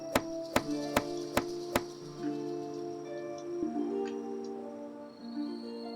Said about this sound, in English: And I'm sitting here chopping wood so long that I'm covered in snow.